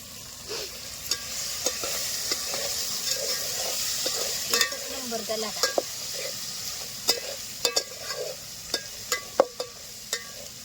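Ingredients sizzle steadily in a pan for a rice-and-pea khichdi pulao, with a constant hiss of frying and scattered sharp clicks and scrapes as a utensil stirs against the pan.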